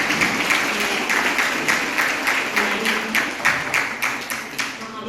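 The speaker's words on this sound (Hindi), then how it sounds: "जोरदार तालियों से स्वागत करता" An audience at a college sports meet prize distribution claps to welcome a guest, a steady, fairly close wash of hand claps with slight rhythmic pulsing, with a hint of voices underneath.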